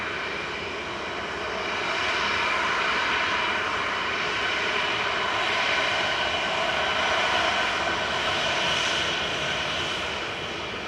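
A Ryanair jet departs Manchester Airport, its engine roar swelling into a broad, steady rumble that builds after the first couple of seconds and holds loud and sustained at a distance.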